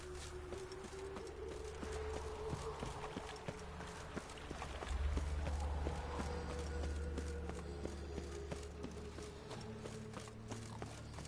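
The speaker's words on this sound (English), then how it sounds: "I found a random black stallion, like, running around in the woods." Hooves of a black stallion in the video game The Witcher 3: Wild Hunt clop quickly at a steady galloping rhythm over a low background hum, moderately near and fairly quiet.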